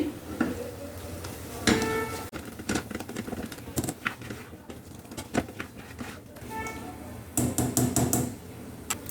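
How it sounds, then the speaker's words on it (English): A utensil mashing tomatoes and onions in a pan during sweet corn curry cooking, producing irregular knocks, taps and scrapes against the metal, with louder clustered clatters near the start and end. "Mash the tomatoes well."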